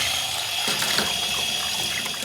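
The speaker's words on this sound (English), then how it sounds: "So start off by rinsing that through under the tap" Tap water runs steadily over Wagner paint sprayer parts, including the needle area, as they are rinsed in a sink. A close, continuous splashing rush with no voices.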